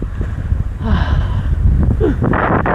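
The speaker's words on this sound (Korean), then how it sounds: "바람이 진짜 많이 불어요" Strong wind gusting through a deep, snow-covered mountain valley, a steady low roar loud and close against the microphone, with faint breathy vocal sounds briefly passing over it.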